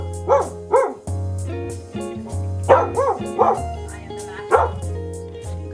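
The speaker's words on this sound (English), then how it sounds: "the puppies are out here" Puppies barking and yipping in short repeated bursts, close and loud, with a few whimpers between barks inside a home.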